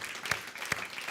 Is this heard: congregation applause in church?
yes